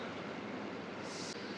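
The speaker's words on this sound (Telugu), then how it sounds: "ఇలా వచ్చాము, అలా స్టార్ట్ అయింది ట్రైన్ అయితే." A MEMU commuter train pulls out of Rajahmundry station with a low, steady rumble and broad hiss. It stays faint and distant throughout, and a brief brighter hiss rises near the end.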